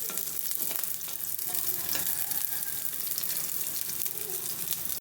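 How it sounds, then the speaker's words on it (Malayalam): Ginger, garlic and small shallots sautéing in hot oil with popped mustard seeds and cumin, a steady close sizzle with occasional spoon stirs, no voices, for a Kerala papaya and green gram thoran. "കടുകും ജീരകവും പൊട്ടി വന്നതിലേക്ക് നമുക്ക് ഇഞ്ചി, വെളുത്തുള്ളി, ചെറിയ ഉള്ളി ചേർത്ത് കൊടുക്കാം"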